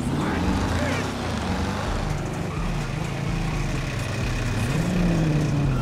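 Rough, damaged car engine idles and runs steadily in GTA 5, a low uneven drone with harmonic layers, loud and close throughout, while game ambience stays in the background.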